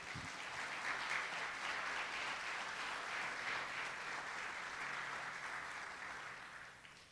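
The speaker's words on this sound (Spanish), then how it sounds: "Denle un fuerte aplauso al Señor en esta mañana" A church congregation at a Sunday service applauds in a dense, continuous wash of many hands clapping. It is fairly distant and steady for about seven seconds before tapering slightly at the end.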